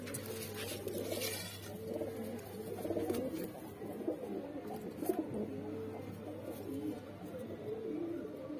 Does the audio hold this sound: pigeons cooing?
yes